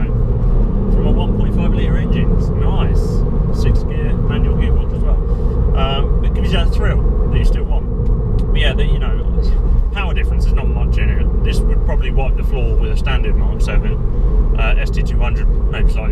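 A 2019 Ford Fiesta ST with a 1.5 litre engine and six-speed manual gearbox drives along, its steady engine and road rumble continuous and close throughout while a person talks over it.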